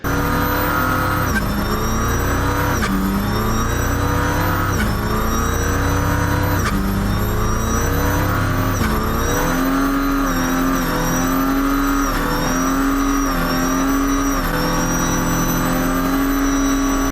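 A Mercedes OM606 inline six-cylinder turbo diesel, fitted in a Holden Torana, revs loud and close in repeated rising bursts, each climb falling back before the next, with the turbo whine riding high over the engine throughout.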